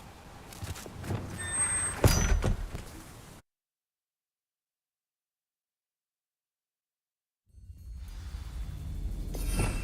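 Depulso push spell cast in Hogwarts Legacy, a burst of whooshing, shattering noise lasting a few seconds, then a sudden drop to silence before quieter game ambience returns.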